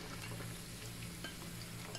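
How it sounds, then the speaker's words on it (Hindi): Finely sliced onions, two large ones, sizzling in hot oil in a wok, a dense continuous frying crackle with some stirring scrapes, close and steady, no speech. "ऑयल गर्म हो गया और अब इसमें शामिल करूँगी 2 अदद बड़ी प्याज, इन्हें मैंने बारीक स्लाइस की शेप में काट लिया।"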